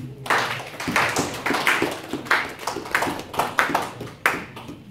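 Congregation clapping in church, a steady rhythmic beat of many hands repeating roughly every half second, loud and sustained throughout with no voices over it.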